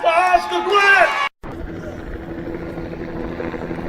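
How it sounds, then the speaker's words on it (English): Helicopters circle overhead during a street rally ringed by riot police, a steady low rotor drone with distant crowd babble; voices talk loudly for the first second before a brief cut. "Helicopters circled and squads of police in riot gear lined the streets"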